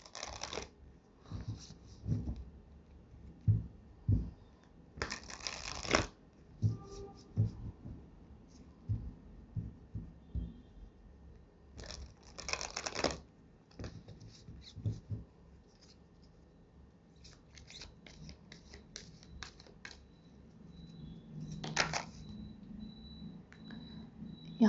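Oracle cards are shuffled and drawn by hand, giving soft riffling flutters and papery slaps that come in intermittent bursts with quiet gaps between them.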